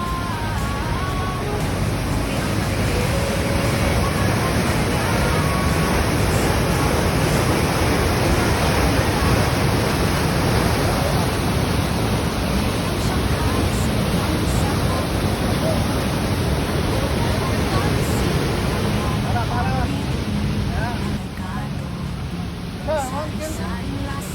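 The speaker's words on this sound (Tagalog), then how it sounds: "If you can see, the name of this falls is Viagra Falls." Viagra Falls, a waterfall, pours in a steady, dense, unbroken roar that fills the whole stretch at close range, with no breaks or change in level.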